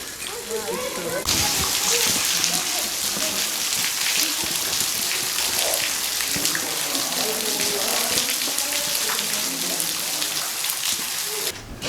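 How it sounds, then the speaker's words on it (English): A waterfall at the entrance of Mammoth Cave produces a constant broad rushing and splashing roar, steady and fairly close throughout, with water spattering over it. "A waterfall."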